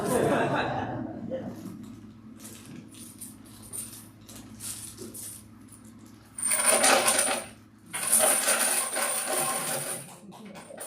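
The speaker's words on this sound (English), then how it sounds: "A lot of coins." Loud cascades of coins pour and clatter in two long bursts, like a payout at a slot machine, at a family gathering where people talk and laugh over the jingling.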